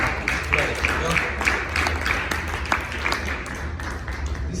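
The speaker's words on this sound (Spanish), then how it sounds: "Denle un aplauso al Señor." A church congregation applauds in a dense, steady patter of many hands, with voices mixed in under the clapping.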